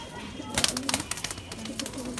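Large Gola pigeons cooing at close range, with soft repeated throaty coos and wing or shuffling sounds, while people talk throughout.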